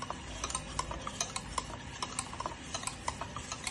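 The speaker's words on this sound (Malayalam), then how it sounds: "കുറച്ചു നേരം നമുക്ക് മിക്സ് ചെയ്ത് ഇതൊന്ന് ഫൈനാക്കാം" Pancake batter is gently stirred in a bowl, giving soft, steady clicking and tapping of a whisk or spoon against the sides in a quick irregular rhythm, close and quiet.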